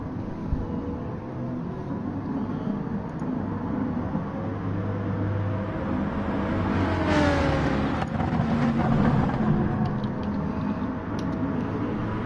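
A race car engine in Gran Turismo on the Dragon Trail circuit drones steadily throughout, with the revs swelling and rising partway through before settling again. No one talks over it.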